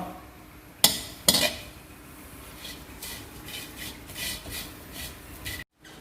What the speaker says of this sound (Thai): รอผมคั่วเสร็จก่อน